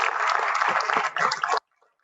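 Audience applause at an FFA awards ceremony for Keystone State degree recipients, a brief, fairly loud burst of clapping that dips once and then cuts off abruptly into near silence.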